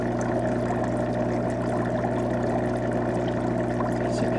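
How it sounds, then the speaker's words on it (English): Bubbling water in a heated Turejo foot spa therapy massager with motorized rollers, a steady continuous churning burble with a low motor hum, close and even throughout, with no talk. "So you can see those are the particular bubbles."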